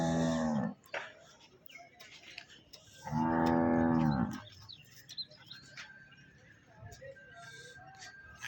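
Two loud, drawn-out cow moos at a livestock market in Chichawatni, one at the start and another mid-clip, with faint bird chirps and low background murmur in between.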